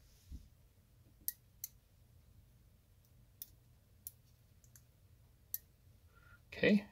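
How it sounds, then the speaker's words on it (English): Small plastic case clips on a Casio DW-291H digital watch snap into place, about six or seven sharp separate clicks spread out, with a louder clack at the end over a faint background hum. "You should be hearing a small clicking sound."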